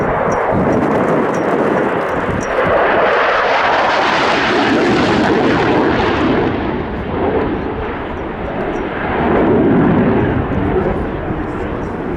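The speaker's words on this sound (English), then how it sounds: "the Australian F111 is fantastic" An Australian F-111 jet flies at the RIAT 2023 airshow with a loud, continuous roar that swells and fades as it passes, while a commentator talks over it.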